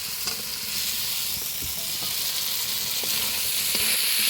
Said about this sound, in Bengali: মশলার সাথে ভালো করে কষিয়ে নেবে সজনে আলুটা মশলার সাথে ভালো করে কষিয়ে দিয়েছি